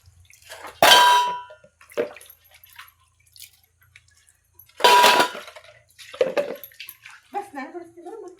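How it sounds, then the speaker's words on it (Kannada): Metal pots and dishes are washed and scrubbed at home, with two loud ringing clangs, splashing water, scattered knocks and drips, and a brief voice near the end. "ಇವಾಗ ಸ್ವಲ್ಪ ಪಾತ್ರೆ ಎಲ್ಲ ಬೆಳಗ್ತಾ ಇದ್ದೀವಿ"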